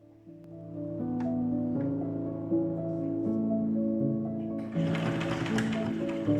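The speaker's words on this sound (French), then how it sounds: "je vais démarrer ma couture sans oublier mon point d'arrêt" A sewing machine stitches a passport cover, giving a steady mechanical whir with a droning hum that runs for several seconds, then turns into a louder, busier clatter near the end.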